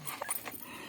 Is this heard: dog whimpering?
yes